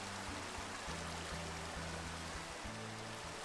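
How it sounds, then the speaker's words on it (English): A water fountain in the Minecraft video game flows with a continuous soft rushing and trickling, steady and fairly faint, with a low droning tonal background running beneath it. "Over here, amongst all the cherry trees, is a water fountain that I made."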